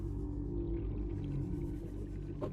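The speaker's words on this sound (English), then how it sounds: "Who the fuck is revving a motorcycle that close?" Low, droning, engine-like rumble in the underwater game Subnautica, sounding like a motorcycle revving nearby, with layered tonal hum that swells and wavers steadily before a brief brighter burst near the end.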